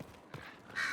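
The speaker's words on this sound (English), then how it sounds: "Who let the crows in here? You let them out, they're so loud." Crows caw loudly in Dragon Age: Inquisition, a short harsh burst sounding near the end of a brief stretch of faint background noise.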